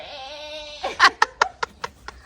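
A lamb's steady bleat holds for nearly a second, then a quick run of sharp clicks and short bursts follows, close and clear, on a farm.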